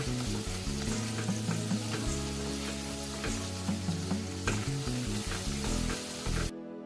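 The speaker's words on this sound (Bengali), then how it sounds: "মশলাটা আমি একটু কষিয়ে নেব" Spice paste frying in hot oil for a cauliflower curry crackles and hisses with a dense, steady sizzle, stirred now and then, before cutting off abruptly.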